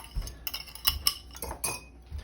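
A metal utensil cuts through popover bites in a pan, giving scattered clinks and scrapes against the metal, close and fairly quiet, with no talking.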